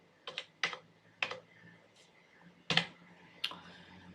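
Keys on a computer keyboard are pressed one at a time to enter a date of birth, with about six sparse, crisp clicks spaced unevenly over a low background hum.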